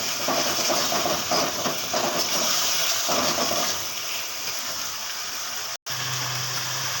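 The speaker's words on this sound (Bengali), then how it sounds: "সামান্য একটু ঝোল দিয়ে দিচ্ছি" Broth pouring into a pan of chilli fish made with bhetki pakoras, ketchup and green capsicum, a loud gushing, hissing rush that eases after a few seconds before a brief cut and a low hum.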